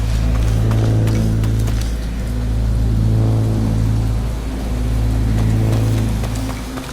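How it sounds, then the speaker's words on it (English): Water in the video game Possessor(s) rushes and patters steadily, like rain or a stream, under a low droning hum that swells and fades in waves, with no voices. "The sound of water sounds nice and crisp."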